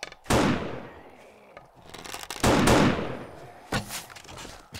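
Three sharp gunfire bursts ring out in the survival horror game 7 Days to Die, each with a decaying tail, spaced over a few seconds with faint background noise between.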